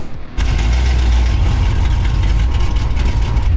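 A 1969 Dodge Charger's V8 catches and settles into a steady, heavy idle, its deep low rumble loud and close after a brief quiet moment at the start.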